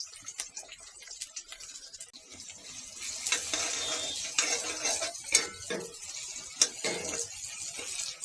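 Garlic, onion and green chilli fry in a pan for fried rice while a spatula stirs and scrapes, with clattering metal strokes and a sizzle that builds louder in the second half, with no voices.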